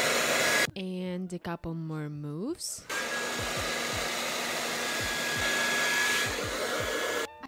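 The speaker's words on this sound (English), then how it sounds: "I'm gonna use the dryer." A hair dryer blows loud and steady while hair is styled into beach waves, its whine running under brief speech, after an opening stretch of talk and a short burst of music.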